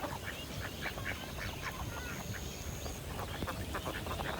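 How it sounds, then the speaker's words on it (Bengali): Ducks feeding on snails at an outdoor fishing spot quack faintly and intermittently, partly masked by steady rustling background noise. "হাঁস"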